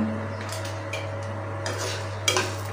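Toor dal, coconut, garlic and tamarind dry-roast in a pan for paruppu thuvaiyal, with a spoon scraping and clinking against the metal in short bursts over a faint, steady hum.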